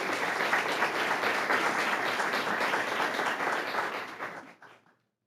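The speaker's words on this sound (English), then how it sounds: "if we can give him a round of applause" Crowd applause at a board meeting, dense and sustained, holds steady for several seconds before tapering off and fading to silence.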